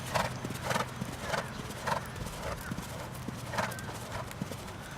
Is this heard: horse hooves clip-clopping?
yes